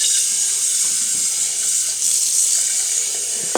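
Cold tap water runs steadily from a faucet to fill a Cuisinart coffee maker, a continuous close splashing hiss heard alone.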